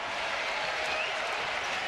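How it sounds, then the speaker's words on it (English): Applause and cheering swell from a college basketball arena crowd during a St. Bonaventure home game against VCU, a dense, steady roar of clapping. "Crowd's loving it."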